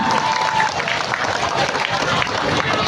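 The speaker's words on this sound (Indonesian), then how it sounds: "Tepuk tangan buat Bapak Bupati kita" A large crowd at a tabligh akbar in Rokan Hilir applauds the regent, a continuous roar of clapping and crowd noise with some voices mixed in, loud and sustained.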